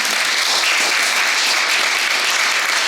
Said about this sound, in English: Give yourselves a round of applause for making it out tonight